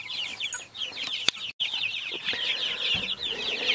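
Chickens cluck and chatter continuously in a coop on a small homestead farm, a busy overlapping flock nearby with a few sharp knocks and rustles, and no voices.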